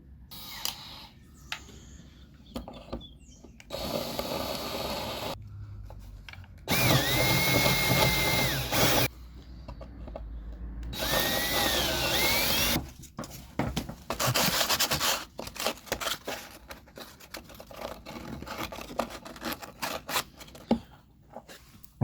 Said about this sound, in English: I'm going to drill the hole a little bit bigger